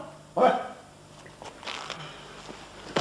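A dog barks during a Uyghur stage play. A few separate barks of varying strength come over a quiet theatre room, with one loud bark near the start and another at the end.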